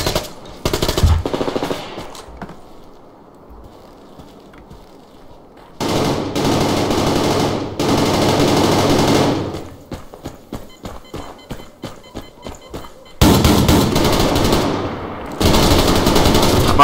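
Shotguns and submachine guns fire in the video game Survarium in loud, dense bursts of rapid gunfire, separated by quieter stretches of movement and footsteps.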